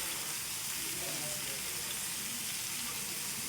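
Tandoori chicken pieces fry in oil in a pan, giving a steady, close, broadband sizzle that holds unbroken throughout with no talking.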